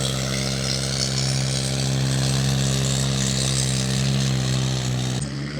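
A tractor engine roars hard and steady with a deep droning hum during a trolley pulling contest in a Punjab village, loud and close before cutting off abruptly near the end.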